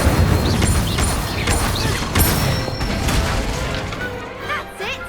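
Incendio fire spell cast in the Hogwarts Legacy video game: a dense burst of whooshing, crackling magic effects and impacts under a steady game score, loud and close, with a brief voice in the background.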